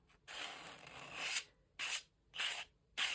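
Gesso being scraped across a junk journal page, a long dry rasping stroke followed by three shorter scrapes at a steady rhythm, close and quiet with no talking.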